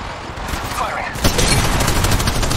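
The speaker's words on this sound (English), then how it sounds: "Firing." Gunfire in Apex Legends Mobile, a dense rapid burst of automatic shots followed by continuing fire, loud and close amid game effects.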